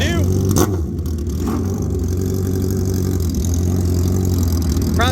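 Motorcycle engine on a drag racing bike newly run in the Super Comp class at a drag strip, fitted with a new clutch, running steadily with a low throbbing drone and a brief rev near the start; faint voices underneath.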